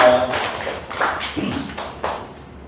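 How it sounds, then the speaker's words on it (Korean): Scattered clapping from a church congregation during a worship service, a handful of uneven, fairly close claps and taps with small gaps between them. "대한민국의 감사의 박수, 감사의 박수 올려드립니다"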